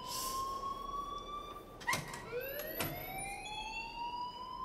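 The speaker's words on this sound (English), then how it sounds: "please turn off that alarm since that's your job" A school fire alarm in the video game Life is Strange sounds as a steady electronic tone with rising, sweeping whoops and a couple of sharp clanks, moderately loud and without talking.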